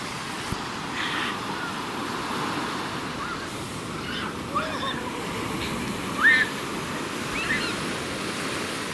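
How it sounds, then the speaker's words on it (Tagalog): Ocean surf rolls steadily onto the beach at Bauang, La Union, a continuous broad wash with wind buffeting the microphone and faint voices now and then. "Grabe yung waves ng..."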